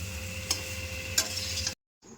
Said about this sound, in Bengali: এই যে পনিরটা কষানো হচ্ছে, পনির আলু কষানো হচ্ছে